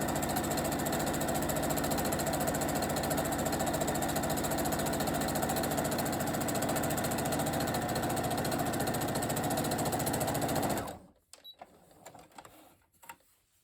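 A sewing machine runs a quick continuous stitch along a bandana headband, a steady fast mechanical whir close by that cuts off abruptly near the end, followed by faint handling sounds.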